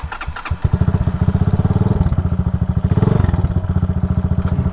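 A 223cc RPS Condor motorcycle engine idles with its idle raised, a close, loud, rapid chugging putter that settles into an even, fast beat after a brief rev at the start.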